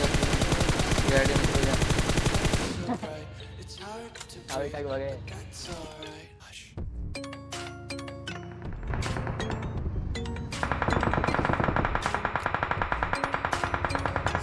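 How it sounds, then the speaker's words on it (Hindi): Rapid bursts of automatic gunfire in the PUBG battle royale game, aimed at a BRDM armored vehicle. The shots come in repeated loud volleys mixed with game sounds, and someone speaks briefly between them. "अभी ये बीआरडीएम वाला मैं इस पर फायर करता हूँ"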